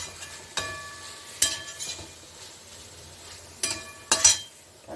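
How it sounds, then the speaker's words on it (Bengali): Chickpeas cooking in a pan on low heat, a soft steady sizzle with several sharp clinks of a spoon or utensil against the pan, heard close and without voices. "এটা আমি এখন রান্না করছি একদম লো হিটে"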